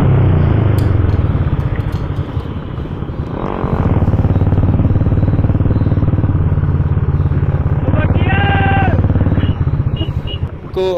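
A KTM RC 200 and a Bullet 350 motorcycle ride side by side as the KTM overtakes the Bullet. Loud engine thumping and rumbling runs throughout, with a revving surge midway and a rising rev near the end.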